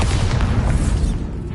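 A Bombarda spell explosion in Hogwarts Legacy, a loud, dense rumbling boom that fills the short span and fades slightly at the end, heard alone without talk.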